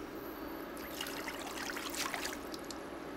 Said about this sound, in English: I need to add some water.